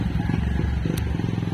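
A motorcycle rides by on a street near South Bay, a steady low engine rumble close and continuous, with faint street clatter and some background talk.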